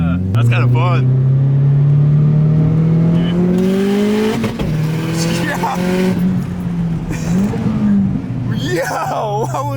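A car engine revving sharply to redline during a downshift, loud rising and falling engine pitch sweeping across the clip, with occupants' voices over it.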